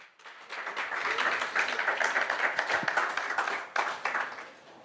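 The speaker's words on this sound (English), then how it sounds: "could we please give a round of applause to the University of Namibia Choir?" Audience at a launch event applauding the University of Namibia Choir, clapping that swells in quickly and holds full and steady for several seconds before dipping near the end.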